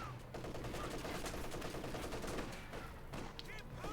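Sustained German MG-34 machine gun fire in the World War II strategy game Company of Heroes 2, a dense continuous rattle of rapid bursts layered with other battlefield gunfire, loud and unbroken throughout with no talk.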